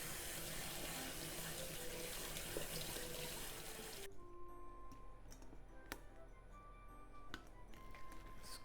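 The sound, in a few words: tap water running over glass noodles in a sink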